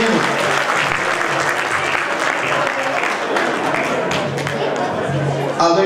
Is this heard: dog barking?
no